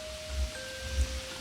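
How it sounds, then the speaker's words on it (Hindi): Heavy rain falling late at night, heard as a quiet, steady broadband hiss with soft low rumbles and a faint constant hum underneath. "तेज बारिश हो रही थी।"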